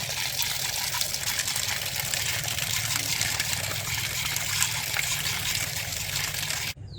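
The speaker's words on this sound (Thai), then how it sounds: "ล้างแป้งมันออกก่อนนะครับ" Ant eggs being rinsed in a colander to wash off starch: a steady, close stream of running water pours and splashes without pause, cutting off abruptly near the end.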